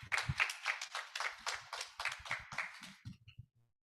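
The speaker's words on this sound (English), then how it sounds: "Please, let's have a round of applause to our panelists." A small audience claps for panelists at a youth energy summit breakout room, distinct individual hand claps in a quick irregular patter that thins out and stops.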